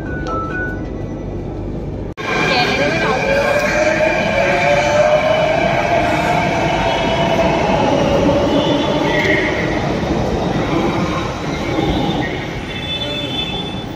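Mumbai metro train at Andheri station, loud and close, with a sudden onset of rumbling wheels and a long rising squeal of wheels on rails that fades as the train slows.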